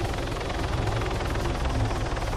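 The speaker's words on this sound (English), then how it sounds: "Damn, this helicopter's so loud." A helicopter in the video game ARMA 3, its rotor thumping and roaring continuously, loud and close, with no pause.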